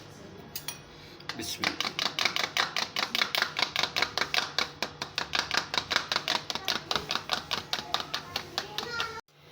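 Egg beaten briskly with a fork in a bowl while preparing chicken nuggets, a fast, steady run of loud clinking taps against the bowl lasting several seconds, with a brief spoken word at the start.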